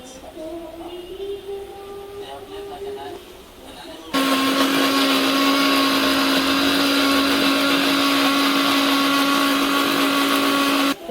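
A kitchen mixer grinder whirs into a loud, steady high-pitched grind of masala paste after a few seconds of quieter background, running continuously to the end before cutting off abruptly.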